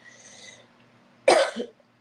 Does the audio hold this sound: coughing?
yes